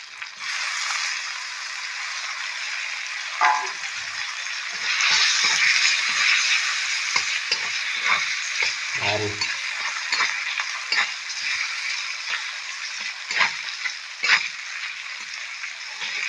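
Fish sizzle and crackle steadily in hot oil with turmeric, chili and salt on a rural wood-fired stove, with scattered scrapes and stirring knocks over the continuous frying hiss.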